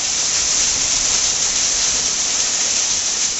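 Heavy rain mixed with falling hailstones in a hill village, a dense, steady roar of hissing downpour that holds constant and loud throughout with no voices.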